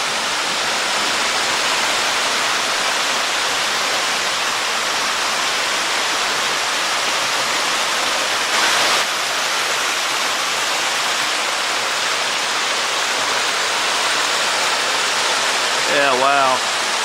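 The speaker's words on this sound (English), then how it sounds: "More waterfalls." Steady, full rushing roar of waterfalls along a forest trail in Hickory Run State Park, constant and close, with a brief voice near the end.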